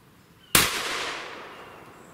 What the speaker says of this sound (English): I'm going to go ahead and run these next two sequentially, so there's not going to be any break between firing.